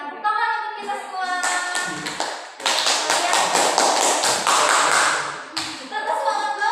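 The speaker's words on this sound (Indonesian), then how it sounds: "Tepuk tangan untuk kita semua." A burst of hand clapping from a group, loud and steady for a few seconds, with voices around it before and after.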